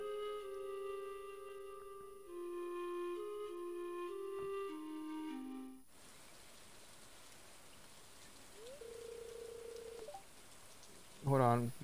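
Steady rain falls in the Stardew Valley farming video game as a soft, even hiss. It follows a stretch of melodic game tones, with a short electronic chime near the end.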